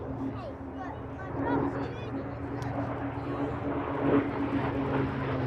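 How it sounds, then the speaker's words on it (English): A propeller-driven navy fighter drones past at the Sywell airshow, a steady engine hum at a distance that swells slightly, with a commentator talking over it. "So the aircraft was capable of well over 400 miles an hour,"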